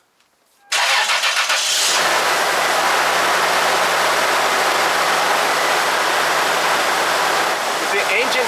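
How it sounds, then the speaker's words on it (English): Engine of a 3rd-generation Toyota 4Runner cranking and catching at once after a radiator replacement, then settling into a loud, steady run with a low hum throughout, heard close up. "And now we turn on the engine and check for leaks."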